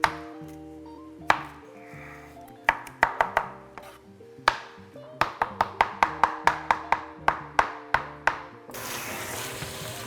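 A knife chops chili peppers on a cutting board with irregular sharp knocks, sometimes single and sometimes in quick bursts, over a steady tonal background. A brief rush of noise comes at the end.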